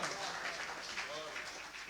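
The audience at a mushaira and kavi sammelan organised by the Bar Association in Meerut claps in a dense, steady burst of applause while a voice speaks over it.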